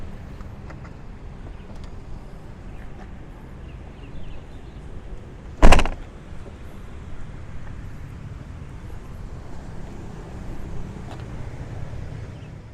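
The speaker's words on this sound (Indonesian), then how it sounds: "Untuk buka kap mesin tinggal tarik tuas dari bawah setir, lalu kita buka." A Mercedes-Benz CLC 200 Kompressor hood is released and opened, heard as a single sharp clunk midway through steady outdoor wind noise.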